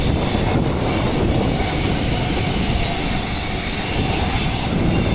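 A metro train rumbles past close by, with continuous loud wheel noise, rattling carriages and a faint metallic squeal throughout.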